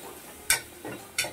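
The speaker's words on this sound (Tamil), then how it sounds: "இது இப்போ ஆனியன் தான் ஃப்ரை ஆயிட்டு இருக்கு." Onions frying for chicken biryani in an idli pot, a soft steady sizzle broken by two sharp spoon scrapes or knocks against the pot, close by.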